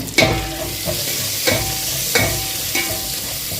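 Curry leaves sizzle in hot oil for South Indian moru curry, a loud continuous crackling fry broken by several rhythmic stirring scrapes, with no talking.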